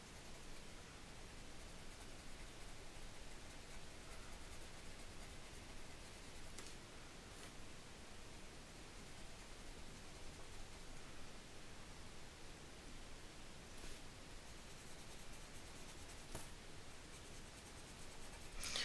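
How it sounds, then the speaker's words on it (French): Steady, soft scratching of a pencil or marker colouring the hair of a drawing on paper, a continuous close rasp that carries on for the whole stretch with no voices. "On va colorier les cheveux."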